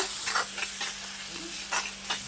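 Onions sauté in a hot pan for a chicken gravy, with a steady sizzle and repeated scraping strokes from a spoon stirring them at an irregular pace, heard close up with no talking.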